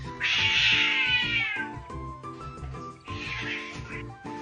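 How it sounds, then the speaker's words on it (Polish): A domestic cat meows loudly and close up, with two drawn-out, wailing cries separated by a short pause. A low background hum runs underneath. "Znaczy jeden z moich kotów"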